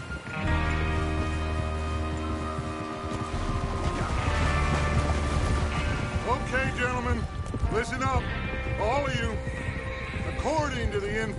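Horses whinny and neigh loudly in a Red Dead Redemption 2 outlaw gang scene, with hoof clip-clop and repeated snorts over a dense music and ambience bed; voices talk through parts of it.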